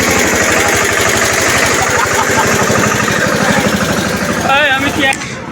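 A tractor engine running near a huge religious gathering where food offerings are served: a loud, close, steady chugging idle with rhythmic pulsing, and voices faintly mixed in.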